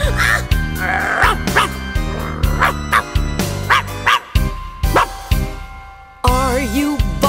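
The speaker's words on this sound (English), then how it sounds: "Are you barking?" A dog barks loudly and close by in a rapid series of sharp barks with short pauses, ending in a higher, whining yelp.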